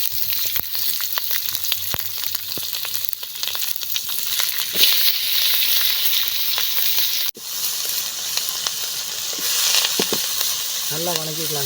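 Chopped onion and tomato frying in a pan, a loud continuous sizzle with scattered crackles and stirring scrapes throughout and a short voice near the end.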